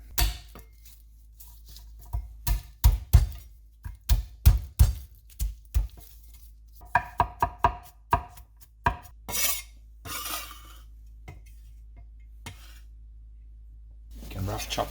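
A knife roughly chops kale on a cutting board in a kitchen, a quick string of sharp, close knocks followed by lighter taps and a scraping sound, with some talking under it.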